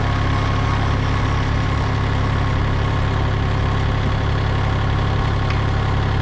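A POSCH 16T Autospeed log splitter running steadily, its engine droning loud and close with a constant low rumble and vibration throughout, no speech.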